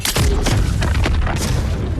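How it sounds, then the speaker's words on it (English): A loud grenade explosion in the video game Ark Survival Evolved: a heavy, close booming blast with a rumbling low end that stays dense and sustained for a couple of seconds, with no voices over it. "Do an awesome loud explosion."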